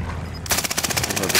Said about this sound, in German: Alter, von überall schießt.